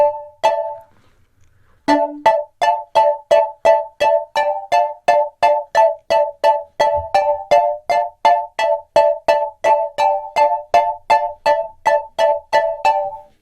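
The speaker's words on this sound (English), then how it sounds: "to make it a bit more interesting, let's add a chorus" A bright, plucky Serum synth note with chorus repeats in a steady, quick rhythm, each pluck shimmering and slightly widened, playing alone and fairly loud.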